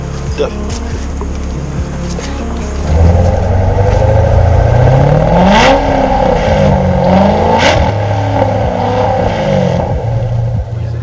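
A 2019 Chevrolet Corvette ZR1 V8 fires up and settles into a loud, deep warm-up idle, with a couple of rising revs before it steadies. A person talks over the engine.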